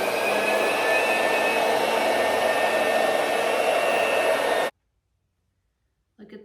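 An electric cutter slicing through quilt backing with batting gives a steady, loud whirring hum that runs unbroken for several seconds and then cuts off abruptly, followed by silence and a faint rustle.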